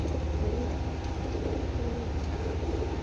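Pigeons at a pigeon seller's stall coo in a soft, low, continuous murmur over a steady background rumble, with no clear breaks across the few seconds.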